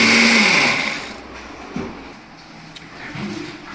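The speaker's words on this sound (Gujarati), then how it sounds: "આ રીતે લસ્સી બનાવવા માટે પહેલાં ચીકુને ક્રશ કરી લઈએ આપણે મિક્સરમાં" A kitchen mixer blender crushes sapodilla fruit with a loud, high whirring. It runs for about a second, then winds down, leaving only faint clatter and room noise.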